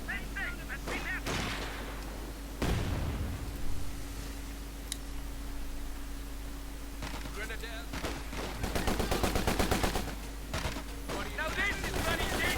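Rapid machine-gun bursts and scattered rifle shots crackle through a Company of Heroes 2 battle, with dense fusillades near the end and distant booms, under intermittent in-game voice chatter.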